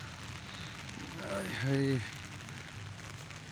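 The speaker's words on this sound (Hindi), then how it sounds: "ज़बरदस्त बारिश हो रही है" Heavy rain pours down in Islamabad, a steady wash of noise with a short spoken greeting near the middle.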